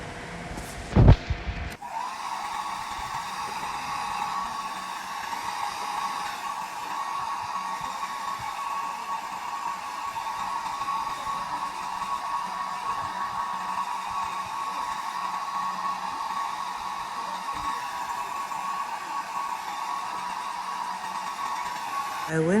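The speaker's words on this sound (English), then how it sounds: "used my blow dryer on cool to get it sticky" A blow dryer on its cool setting, drying the glue for a lace frontal wig, whirs with a steady, close, droning hum after a brief clatter as it switches on.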